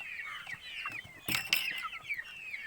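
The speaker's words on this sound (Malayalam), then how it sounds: "ഞാൻ ചെറിയ കോഴിക്കുട്ടികളെ, ബ്രോയിലർ കോഴികളെ വാങ്ങിയിട്ട് കൂട്ടിൽ വളർത്തിയിട്ടുള്ളതാണ്." Young broiler chickens in a coop cluck and cheep in a busy overlapping chorus, with a few sharper squawks, close and moderately quiet.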